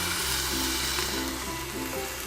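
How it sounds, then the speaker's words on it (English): Onion and garlic sauté in a hot pan, giving a steady, close, even sizzle and hiss that runs through the whole stretch without a break, with no voices over it. "we're gonna add our garlic and saute it for about 1 minute."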